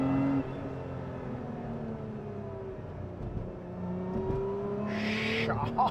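Lotus Emira sports car with a combustion engine, revving steadily with a sustained engine drone and rising pitch, close and fairly loud, with a brief burst of louder revving near the end; someone talks lightly over it.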